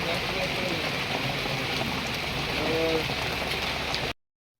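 Heavy rain pours down in a steady, dense hiss with no letup, then cuts off abruptly just before the end.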